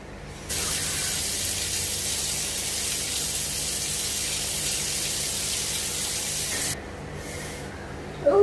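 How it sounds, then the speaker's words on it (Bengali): Tap water gushes steadily for about six seconds as a hand is rinsed in a home kitchen, a close, continuous hiss that cuts off abruptly, followed by a brief quieter splash. "দাঁড়াও আগে জল দিয়ে ধুতে হবে"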